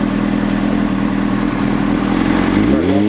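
A motorcycle ridden by a beginner shifting through the gears gives a close, loud engine drone with clattering texture, and its pitch climbs near the end as the bike revs.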